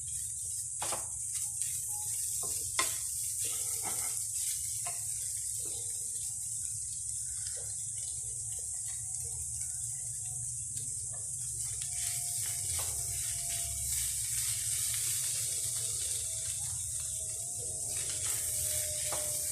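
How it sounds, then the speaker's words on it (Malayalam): Chatti pathiri filling sautés in a pan over a low flame, a soft continuous sizzle with scattered small clicks and scrapes of stirring, fairly close and steady, with no voices. "തീ കുറച്ച് വെച്ച് നന്നായിട്ടൊന്ന് വഴറ്റിയെടുക്കണം"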